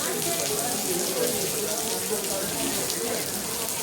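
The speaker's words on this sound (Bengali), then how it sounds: "প্রচুর বৃষ্টি হচ্ছে" Heavy rain pours down steadily outside a doctor's clinic, a dense, even hiss of water that holds constant without pause, with a splashing quality like runoff or water striking a hard surface.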